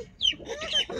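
A backyard chicken gives a couple of quick, close clucks in a brief burst, with faint background noise.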